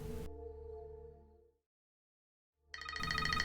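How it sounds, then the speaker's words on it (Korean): A repeating electronic ring tone plays, cuts to silence for about a second, then rings again brighter and louder. "새벽이 넘은 시간, 마고에게 수차례 전화가 오지만 곤히 잠든 데이빗은 이 전화를 받지 못합니다"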